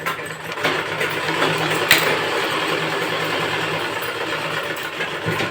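Sewing machine running steadily while stitching a seam on a pant pocket, a continuous motor drone with fine rapid needle texture and one brief sharp click partway through, no voices.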